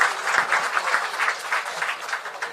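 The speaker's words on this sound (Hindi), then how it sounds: "तदुपरांत श्रीमती सम्मान में ऊर्जावान ताली बजनी चाहिए" Rhythmic audience clapping at an award ceremony, moderately loud and fairly even, with beats pulsing steadily across the whole stretch and no talk over it.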